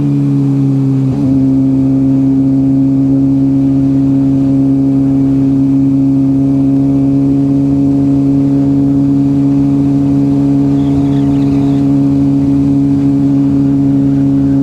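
Suzuki GSXR 750/600 motorcycle engine with a replaced transmission, cruising at about 46 mph in fourth gear: a loud, steady droning hum at constant pitch after a brief shift near the start, heard close with wind noise and no talk.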